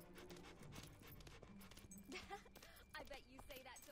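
A dog in the video game Fable 2 pants in quick, rhythmic breaths. Soft game music and ambience play beneath it, along with faint other voices.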